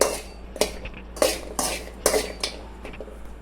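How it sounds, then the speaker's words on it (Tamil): Dry ginger, about a hundred grams, stirred and roasted dry in a pan for a homemade millet health mix; a series of sharp metallic scrapes and clinks of the spoon against the pan, roughly six strokes, close and fairly quiet. "நூறு கிராம் சுக்கு உள்ளே சேர்த்து இதை நல்லா வறுத்துக்கிடுவோம்"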